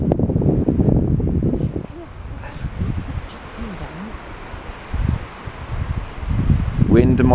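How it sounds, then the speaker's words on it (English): Outdoor wind rushes and rustles around a camp with a newly pitched tarp, gusting louder at the start and end, with people talking briefly over it. "Wind, my love, wind."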